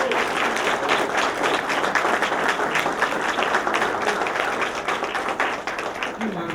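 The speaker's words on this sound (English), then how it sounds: "Wonderful round of applause for their wonderful gift." Audience at a college portrait unveiling gives a sustained round of applause, dense steady clapping from a crowd that carries on throughout and tapers slightly near the end.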